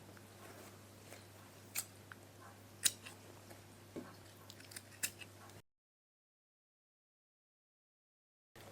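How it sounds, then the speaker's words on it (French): Scissors snip through a fabric corner while a cloth book is being sewn: a few crisp, close, quiet cuts spread over several seconds against a low steady hum, followed by silence. "Donc là, tu vas venir couper l'angle."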